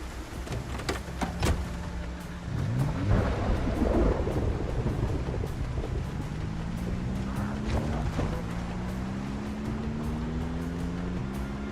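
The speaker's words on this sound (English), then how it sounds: "It's raining too much anyway." Heavy rain and rolling thunder in Project Zomboid, a steady downpour with deep booming rumbles swelling in the first half, plus a rising mechanical whine in the background.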